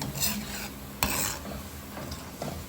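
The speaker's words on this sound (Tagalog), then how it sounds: "Paminsan-minsan hahaluin." Thick biko, a sticky rice cake, simmering in coconut milk is stirred with repeated scraping and rubbing strokes against the pot, with a faint bubbling sizzle underneath and one sharper knock partway through.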